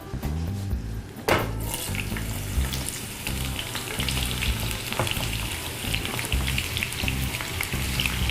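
Sliced onion half-rings fry in hot vegetable oil, giving a steady, close crackling sizzle that runs throughout with a few spoon-and-pan clinks, no voices.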